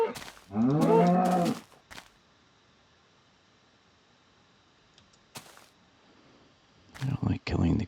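A cow in the Minecraft video game lets out a single loud, drawn-out moo close by, followed by short clicks and thumps and a second brief lowing burst near the end.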